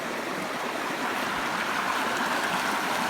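Overflow rainwater rushes steadily through a ditch and into a swollen creek, a close, constant broadband gushing with no pauses.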